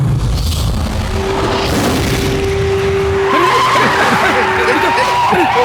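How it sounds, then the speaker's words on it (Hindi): A car skids to a sudden stop with a sustained tire squeal building into scraping, wavering screeches, loud and close, with people talking around it. "रवि क्या हो गया यार, गाड़ी क्यों रुक गई एकदम से?"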